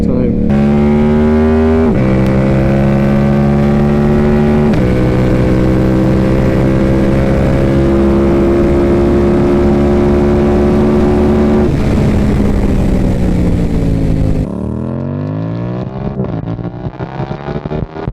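A Yamaha R7 motorcycle accelerates hard on the road, its engine loud and close, with pitch climbing through several gear shifts before dropping into a lower, uneven note as it eases off.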